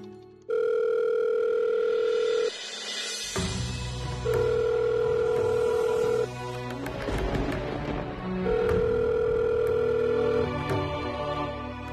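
A telephone rings in a domestic scene, its steady electronic tone sounding in three long bursts separated by short gaps, with softer background music underneath.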